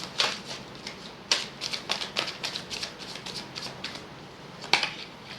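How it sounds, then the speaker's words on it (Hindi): A tarot deck is handled as cards are drawn, giving a run of quick, light paper flicks and snaps at close range, fairly quiet and uneven in rhythm, with no talking. "Let me take one more card."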